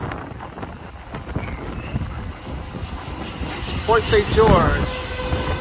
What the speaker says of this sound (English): And here come the train. Yep. Oh, that's a double header.